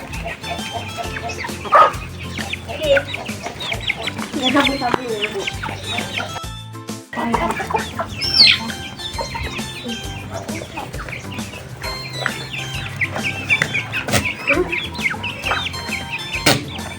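Native chickens cluck and call at close range on a farm, steady and overlapping throughout, while a person talks over them and a dog barks now and then.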